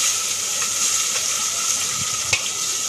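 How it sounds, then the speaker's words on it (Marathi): Onion frying in hot oil with curry leaves, mustard and cumin seeds for pulao, a steady close sizzle throughout with a few soft stirring scrapes, no voices. "आता आपण त्याच्यात कांदा टाकूया."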